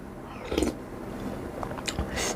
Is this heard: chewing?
yes